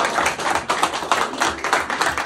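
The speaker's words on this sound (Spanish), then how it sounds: "¡El aplauso, por favor!" A crowd at a birthday gathering applauds, giving loud, steady, rhythmic clapping throughout with no voices over it.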